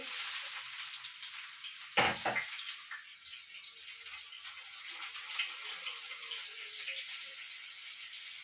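Onion hitting hot oil in a tempering for chutney, a sharp sizzle burst near two seconds settling into a steady, bright frying hiss throughout.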